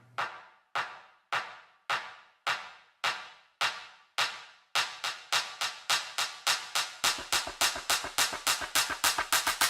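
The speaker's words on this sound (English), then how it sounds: "It's a clap, which is your average clap." A building clap loop in an electronic music track starts as sparse, evenly spaced sharp claps, then quickens into rapid repeated hits with a low pulse added underneath, growing denser toward the end.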